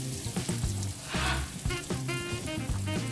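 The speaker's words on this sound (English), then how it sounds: "See those sizzle? You know your pan is hot." Steady crackling sizzle of breaded chicken cutlets frying in hot oil, dense and continuous with brief louder bursts, close up and no talking.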